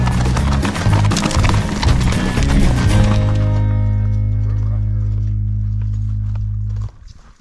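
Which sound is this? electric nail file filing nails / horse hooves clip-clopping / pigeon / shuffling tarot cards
horse hooves clip-clopping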